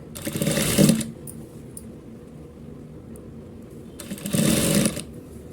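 A sewing machine stitches the collar of a lined blouse in two short close bursts of rapid mechanical whirring, one at the start and one near the end, separated by a quieter pause.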